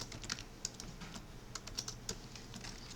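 Typing on a computer keyboard during a CAD drawing session: a steady run of light, crisp key clicks with a few sharper taps, close and fairly quiet, with no voices.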